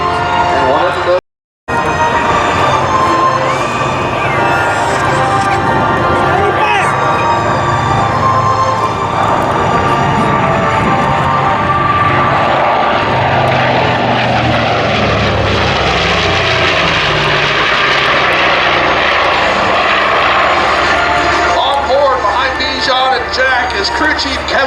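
Engines of the only flying WWII P4Y Privateer, a rare four-engine patrol bomber, drone loudly and continuously in flight, a steady powerful roar with shifting tones, broken by one brief silent gap near the start.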